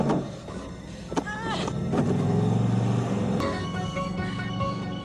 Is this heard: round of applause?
no